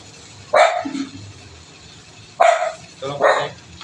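A dog barks three times in short, loud bursts, with a long pause after the first bark and a quicker pair near the end.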